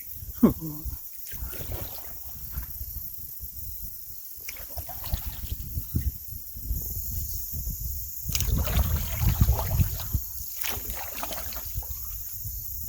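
Canoe paddling on water somewhere in the Appalachian backcountry, with soft strokes and water swishes under steady wind noise, brief speech early on and louder splashing near the end.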